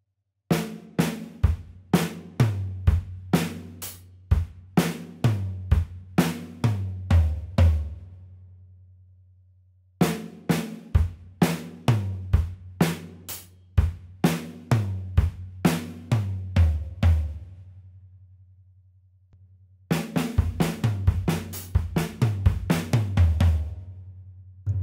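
Linear drum fill played slowly on a drum kit, moving across snare, rack tom, hi-hat and floor tom, repeated three times with a pause between passes; each pass is a close, loud run of single strokes ending in lower floor-tom hits.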